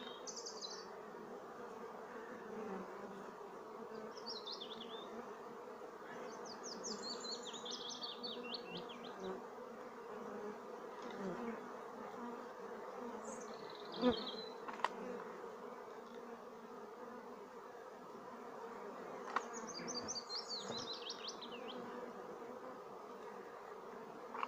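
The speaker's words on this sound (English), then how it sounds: "there are a lot of bees in there" Continuous dense buzzing from a swarm of honeybees being hived, a steady close drone that holds for the whole stretch, with occasional faint bird chirps and a couple of small knocks.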